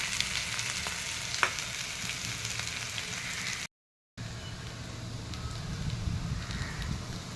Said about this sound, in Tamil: இந்த உருளைக்கிழங்கு இதில் சேர்த்துறேன்.